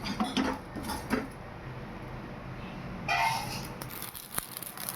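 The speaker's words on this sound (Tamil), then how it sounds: "இப்போது இந்த வெந்தயமும் கடுகும் நல்லா பொரிஞ்சு வர வரைக்கும் நம்ம வறுத்துக்கலாம்." Mustard and fenugreek seeds roasting in a pan for mango pickle, giving a steady close crackle and sizzle with light metallic scraping of a utensil against the pan, alone without talk.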